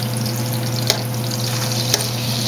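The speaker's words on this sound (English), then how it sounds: "once they start to bubble up like this, that's what you want." Taco shells frying a few at a time in hot oil, a dense, steady bubbling sizzle with a low hum underneath and two faint clicks.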